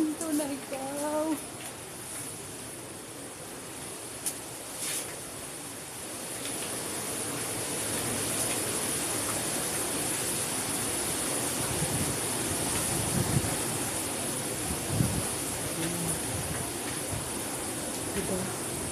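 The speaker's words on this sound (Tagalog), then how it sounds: "Hanggang ngayon, malakas pa rin ang hangin." Strong typhoon wind blows steadily in a broad, rushing roar, growing heavier after the first few seconds, with occasional thumps and rattles and a voice briefly audible near the start.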